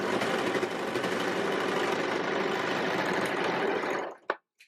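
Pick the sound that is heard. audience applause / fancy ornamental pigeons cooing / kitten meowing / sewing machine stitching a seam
sewing machine stitching a seam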